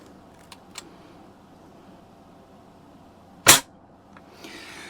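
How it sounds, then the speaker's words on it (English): A Daisy 120 pellet rifle fires once at a pumpkin outdoors, a single sharp crack standing out against quiet background, followed by faint rustling. "now we're going to shoot the pumpkin at her feet"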